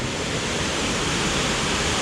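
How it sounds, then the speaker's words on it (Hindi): Water roars out of the canal gates at Nangal Dam in a loud, steady rush. The broadband noise continues unbroken from start to finish and has no talk over it. "यहाँ भाई साहब पानी की बहुत तेज़ आवाज़ आ रही है।"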